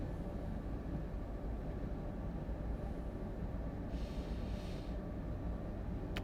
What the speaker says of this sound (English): I see a train.